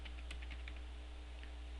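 Quick light keystrokes on a computer keyboard, a short burst of typing that fades out over a steady low hum.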